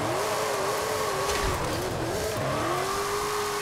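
A 1750hp Ford F-450 dually pickup on drift tires slides sideways in a racing game, its engine holding a steady loud drone with wavering pitch as the tires squeal continuously, close and alone.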